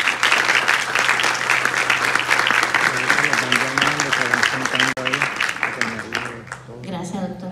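Audience applause at a nursing capping ceremony marking initiation into the nursing profession, a dense burst of clapping that holds for several seconds then thins out while a voice speaks over the fading claps.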